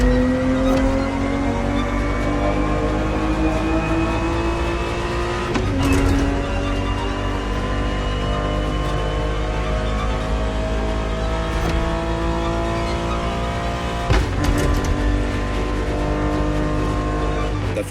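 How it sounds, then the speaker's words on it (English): A Ferrari 365 GTB4 engine racing in The Crew Motorfest, loud and steady with rising revs through the gears and brief drops at shifts around the sixth and fourteenth seconds, continuous and close with no talk. "The Ferrari 365 GTB4 is the perfect vehicle for you to experience Ferrari racing as it felt back in the 70s"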